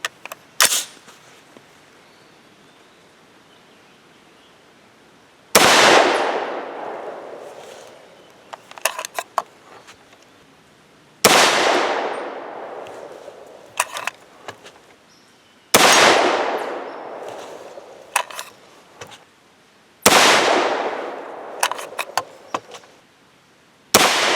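Four loud, close rifle shots from a 300 Blackout firing 208-grain Hornady Match BTHP handloads with IMR 4198 powder, each a sharp blast with a long decaying tail, spaced about five seconds apart, with metallic clicks and clatter between them.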